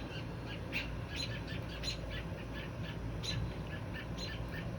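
Adult birds squawk repeatedly around a baby bird set in a box outdoors, short harsh calls scattered irregularly over a steady faint background hiss, fairly quiet and somewhat distant.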